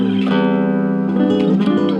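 A diminished chord intro strummed on a Cordoba GK Studio Negra nylon-string guitar, warm sustained ringing notes, close and fairly loud, with a second chord entering about midway.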